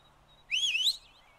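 A character in the oil-drilling video game Turmoil gives one short whistle, a bright rising-and-falling note lasting about half a second against a quiet background.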